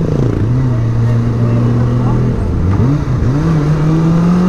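A Kawasaki ZX-25R motorcycle engine runs steadily, with a sustained droning hum that dips and rises in pitch through a shift or rev change, close and loud throughout.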